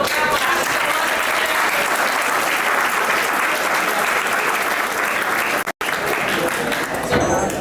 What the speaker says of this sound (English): Big round of applause for Trilo.